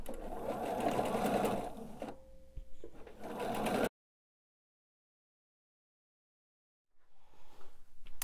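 Sewing machine stitching quilt block pieces for a pillow, a loud, close, fast whirring run that pauses briefly, resumes, then cuts to silence before faint handling sounds return.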